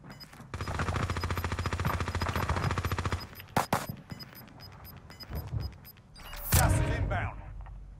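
Rapid automatic gunfire in a battle royale video game, a dense sustained burst for a few seconds followed by scattered single shots and another loud blast, close and loud, with a voice talking between.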